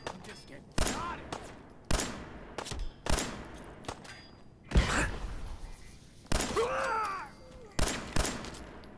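Gunfire in the video game Fallout 4, with a Protectron robot on duty: several sharp bursts of shots spaced through the scene, mixed with voices, synthetic speech and a whooshing effect.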